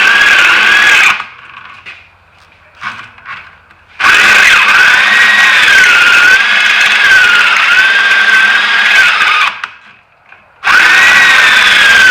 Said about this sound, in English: drilling holes this big is just very difficult